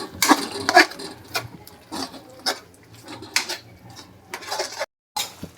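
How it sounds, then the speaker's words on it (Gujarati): A spoon scrapes and clinks against a pan while curry gravy with cream is stirred, giving irregular metallic taps and scrapes at moderate volume with brief pauses, and no one talking. "હવે આપણે આને પાછું આપણે મિક્સ કરી લઈશું."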